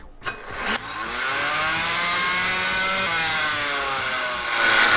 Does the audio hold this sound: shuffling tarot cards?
no